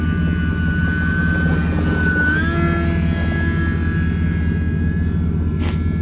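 Scratch-built 60-inch model snow plane with a propeller engine held steady at half throttle, a loud continuous buzzing drone with a slight pitch rise midway, close by and without talk.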